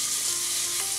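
Garlic fries in a pan over medium heat, giving a brief, close, even sizzle with no speech.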